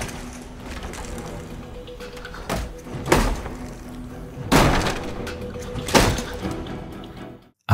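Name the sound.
door being pounded hard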